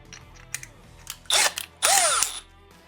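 A power drill turning a 1.5-inch hole saw, guided by an aluminum mount used as a template, whirs up in two short bursts, each spinning up and winding down, with light handling clicks between.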